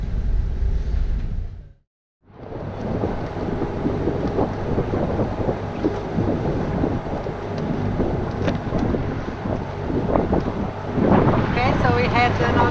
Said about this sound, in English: we've got 33 knots of wind from the northeast, so it's right on the nose